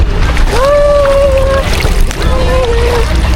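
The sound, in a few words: sea sound at Boracay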